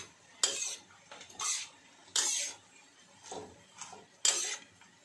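Pechay leaves sautéing in a pan are stirred with a utensil, producing about six distinct scraping, hissing sweeps in an irregular rhythm over a faint sizzle, close and fairly quiet.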